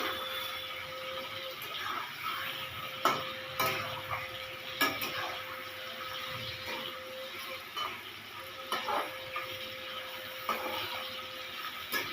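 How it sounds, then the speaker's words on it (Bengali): Chicken lightly frying in a pan gives a faint sizzle under repeated stirring clanks against the pan, with a steady tone humming behind it and no talk. "খুব বেশি ভাজবো না একটু হালকা ভেজে নেবো আমি"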